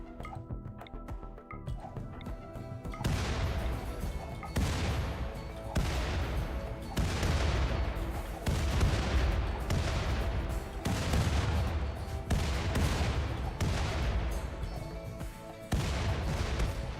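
Classic mortars firing in RimWorld, a run of heavy booming blasts repeating roughly every second or two over a long stretch, each with a sharp attack and a decaying tail, loud and without talk.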